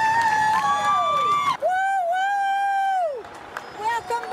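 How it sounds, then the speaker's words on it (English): A crowd welcoming home soldiers of the 226th Brigade as their buses arrive, with loud, close whoops and high shouted cheers over a bed of clapping and crowd noise, voices calling out throughout. "And the crowd erupted"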